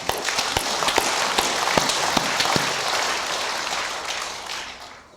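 A congregation at a Sunday sermon on the blessing of building a church sanctuary breaks into sustained applause, a thick rain-like patter of many hands with some sharper claps near the start, steady for about five seconds before easing.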